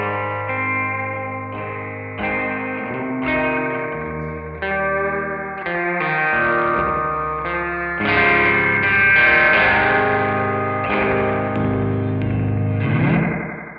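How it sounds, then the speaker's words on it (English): An electric guitar plays a slow melodic line of sustained notes and chords through a slapback delay, each doubled by a quick short echo that thickens the tone. "I like just a good slapback sound for leads and for adding some texture to clean stuff."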